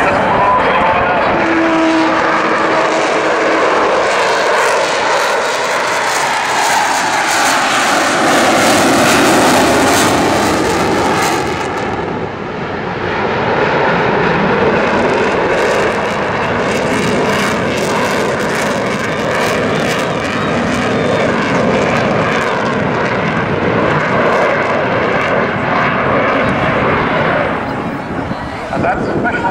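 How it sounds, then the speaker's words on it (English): Avro Vulcan XH558 jet bomber at an airshow at Southend, a loud continuous roaring engine rumble that swells and shifts as the aircraft passes, filling the whole stretch with broad noise. "And that special sound you heard, tell your grandchildren, you heard Vulcan sound."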